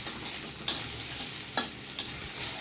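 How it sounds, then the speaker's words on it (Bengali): Green chilli paste masala for a fish curry stirred and fried in a pan, a continuous hissing sizzle with a few sharp spoon scrapes against the pan, close and clear with no talking. "এইভাবে মশলাটা একটু কষিয়ে নেবো বন্ধুরা।"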